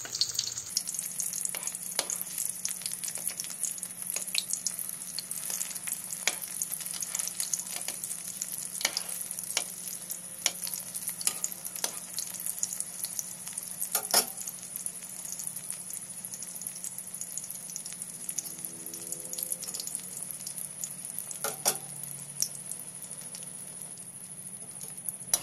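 Dynamite Lumpia, chili-stuffed spring rolls, sizzle steadily in hot oil in a pan after being flipped, a constant bubbling crackle with scattered sharper pops throughout, close and unbroken, with no talking.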